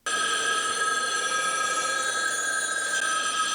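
A telephone rings with a continuous, steady bell-like trill that starts abruptly and holds loud and unbroken to the end.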